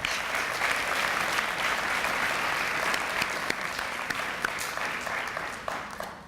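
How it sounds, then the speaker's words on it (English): Students at a college spring commencement ceremony give a sustained round of applause, a dense, even clapping from a large audience that eases and thins toward the end. "Students, please give them a round of applause."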